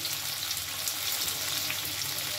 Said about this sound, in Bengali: এবার এর মধ্যে আমি দিয়ে দেব আদা রসুন বাটা